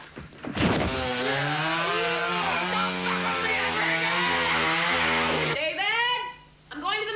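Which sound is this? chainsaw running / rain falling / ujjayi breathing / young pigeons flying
chainsaw running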